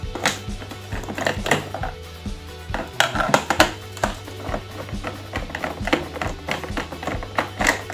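Screws are taken out of the base of a Supor electronic rice cooker, which has power but does not heat, with a steady run of sharp metallic clicks, clinks and rattles close up.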